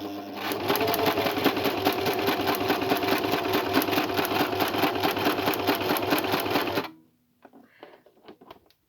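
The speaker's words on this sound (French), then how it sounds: "je vais venir faire mon point zigzag, comme ça, un petit peu de façon aléatoire sur la poche de partout" Sewing machine running a zigzag stitch on a fabric trouser pocket: a fast, steady mechanical whirring and rattling hum, loud and close, running continuously for about seven seconds before stopping abruptly, then a few faint handling sounds.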